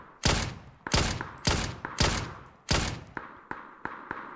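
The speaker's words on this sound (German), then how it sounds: "Die schießen auf mich" Gunshots in PUBG crack at the player in a series of about eight sharp, loud reports, spaced unevenly over a few seconds, the last ones slightly quieter.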